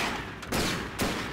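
Gunfire in the video game GTA 5: two loud broadband shots or short bursts about half a second apart over a steady noisy game background, with no talking.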